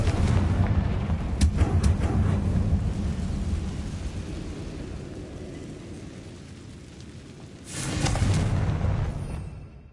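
A Confringo blast spell fires in Hogwarts Legacy, giving a deep rumbling boom near the start that decays slowly, then a second heavy explosive burst around the eighth second, with no talking.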